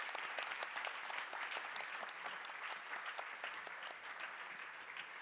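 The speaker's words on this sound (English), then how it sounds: "They really deserve a huge applause" Hearty applause from an award ceremony audience at a board game prize event, dense even clapping heard from some distance and fairly faint.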